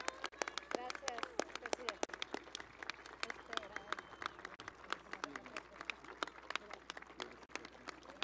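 A room full of people claps at a solemn swearing-in session of the Chihuahua state congress, a quiet, distant, continuous ripple of applause with faint voices mixed underneath.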